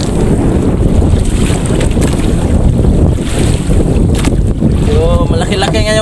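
Strong wind at sea on a fishing boat, a loud, constant roaring buffet mixed with the wash of waves, steady throughout with brief faint sounds near the end.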